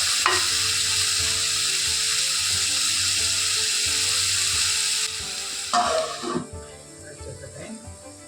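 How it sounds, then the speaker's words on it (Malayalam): Onions sautéing in a pan for a Kerala-style masala curry: a steady, fairly loud broadband sizzle runs for about five seconds, then drops as the pan is stirred, with scraping and clattering as the frying noise fades. "അപ്പോഴേക്ക് സവോള ഒന്ന് വഴറ്റിണ്ട് വരണമല്ലോ"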